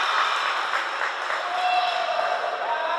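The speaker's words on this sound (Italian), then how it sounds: "Raccoglie nuovamente gli applausi dalla sua panchina." Applause from the team bench during a women's handball match, a steady wash of clapping with a faint voice or whistle-like tone running through it, moderately loud across the whole stretch.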